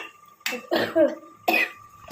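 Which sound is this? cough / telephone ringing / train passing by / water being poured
cough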